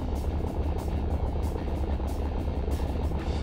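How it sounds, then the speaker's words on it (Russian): A vehicle engine in the game Garry's Mod hums as a steady low rumble, close and constant for a few seconds, with no voices over it. "прикольный звук движка"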